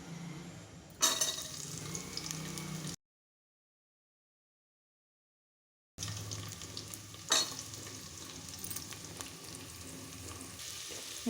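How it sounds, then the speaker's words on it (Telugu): Onions sizzle and fry in hot oil with tempering seeds in a pan, a steady close crackle broken by a few seconds of silence before the frying resumes with occasional stirring. "తాలింపు గింజలు కొద్దిగా వేగాక ఎర్రగడ్డ వేసేసుకోండి."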